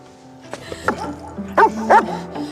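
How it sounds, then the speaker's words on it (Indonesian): A dog at a campsite barks and yips in short bursts, with whimpering tones in between, fairly close and loud against a quiet background. "Anjing itu pun terus menggonggong"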